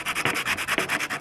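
Paint being scuffed off a cast iron woodstove part, a steady, close back-and-forth abrasive rasp repeating in even strokes of about a tenth of a second, loud and without speech.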